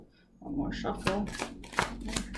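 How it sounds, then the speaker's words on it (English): Tarot cards are shuffled close up in a few quick, crisp bursts of riffling, with soft speaking underneath. "One more shuffle."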